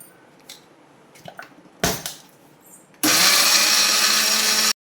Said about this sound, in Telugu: సో ఫస్ట్ ఇదైతే మిక్సీ పట్టుకుందాము